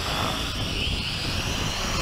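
An MJX X600 hexacopter drone flies into the wind outdoors, giving a steady, continuous whirring rotor drone mixed with broadband wind rush, fairly loud and unbroken.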